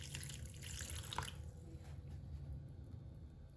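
Water runs from a tap into a sink while a micans plant is watered, a steady, faint trickle and splash with a brief sharper spatter early on.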